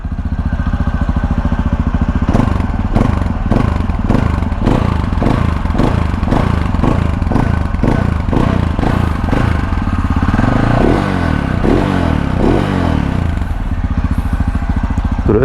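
A Husqvarna SMS630 supermoto with a stock unrestricted exhaust idles and revs up close, its loud single-cylinder engine thumping in a deep, pulsing bass rhythm with repeated throttle blips and no voice.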